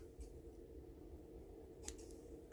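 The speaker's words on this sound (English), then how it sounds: "Just take your scissors." Scissors trim stringy bits off a dried drip of ice cream decoration, giving a couple of faint, quick snips over a low, quiet room hum.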